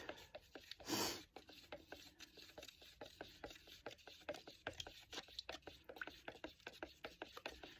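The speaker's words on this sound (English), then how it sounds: "just use a little stir to get it well mixed" Tung oil finish being stirred in its container to mix it before going onto maple, a faint close series of quick rubbing and scraping strokes in an irregular rhythm, with a brief louder rush near the start.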